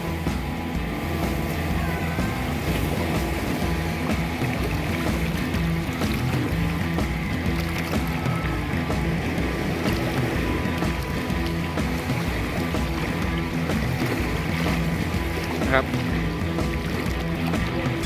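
A skiff motorboat runs on open water in Ao Bang Thao bay, Phuket, its engine droning steadily and loudly throughout with water rushing against the hull and no break in the sound.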